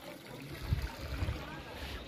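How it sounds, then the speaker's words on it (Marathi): Water trickles out of an opening at an old temple site, a faint, uneven dribble with a voice talking quietly over it. "हे बघा, याच्यातून पाणी येतं"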